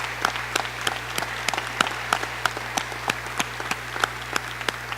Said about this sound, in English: I'd like to give all our maintenance, custodial staff a big round of applause.